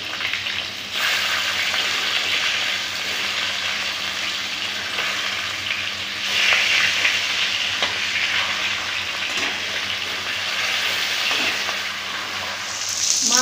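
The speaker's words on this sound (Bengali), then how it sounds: "মাছগুলো ভাজা হয়ে গেছে," Rohu fish pieces fry in hot oil, a steady close sizzle and crackle that runs throughout with brief louder bursts as the pieces shift in the pan.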